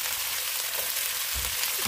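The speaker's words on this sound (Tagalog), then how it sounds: "igigisa ko din itong gulay" Vegetables being sautéed in a pan with shrimp and eggplant give a steady, close sizzle and hiss with no talk over it.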